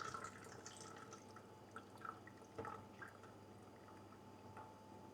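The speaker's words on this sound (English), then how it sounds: "pour our gelatin" Gelatin finings liquid is poured in a jug for cold crashing beer, a faint, quiet trickle and drip of liquid with small splashes and a few louder clinks, heard alone without talk.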